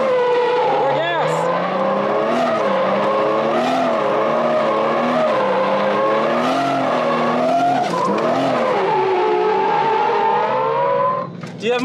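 A loud car engine roars and revs continuously, its pitch rising and falling, while tires squeal and skid throughout.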